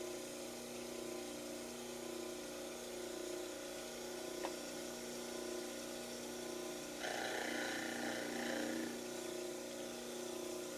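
A model trimmer grinds the heels of a plaster dental cast, making a steady faint motor hum with a rougher abrasive grinding that rises partway through.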